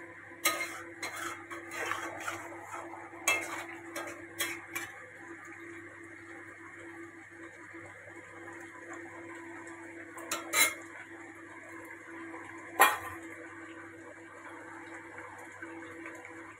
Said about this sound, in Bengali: হালকা একটুখানি নেড়ে চেড়ে নামিয়ে দেবো।